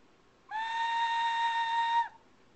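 Handmade ceramic whistle blown once in a single clear, steady tone lasting about a second and a half, bright with strong overtones, close and alone.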